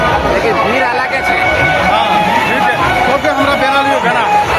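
Dense crowd hubbub at the Karandighi fair, a village mela, with many overlapping voices and chatter forming a loud, continuous wall of babble that never drops away.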